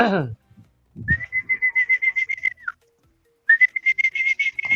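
Someone whistles two sustained, slightly trilling notes separated by a brief silence, following a short burst of voice at the start, during the online game Mecha Chameleon in the Weplay app.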